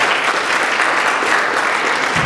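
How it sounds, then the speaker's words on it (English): Gallery talk audience gives a quick, thankful round of clapping for a departing guest, an even, dense wash of hand claps from a small crowd, loud and close throughout. "we should just give Maya a quick clap and thank her."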